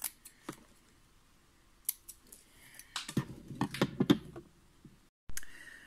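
Scissors cut a bias strip of fabric during sewing, producing a quick run of crisp, close snips after a few isolated clicks, with a soft rustle of cloth at the end.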